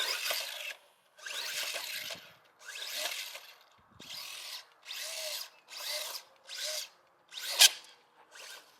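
A Rlaarlo RG01 Gladiator mini RC monster truck accelerates at full throttle. Its electric drivetrain gives a close, loud, high whine in about ten sharp bursts, stopping and starting in an uneven rhythm with a brief click near the end.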